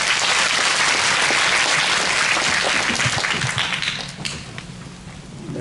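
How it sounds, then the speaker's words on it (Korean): A lecture audience of licensed real estate agents breaks into loud, dense applause that fills the room, then thins and tapers toward the end. "유익한 강의를 해주신 김향훈 변호사님께도 다시 한번 큰 박수 부탁드립니다"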